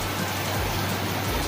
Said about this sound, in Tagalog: Inabot na po ako ng ulan. Malakas.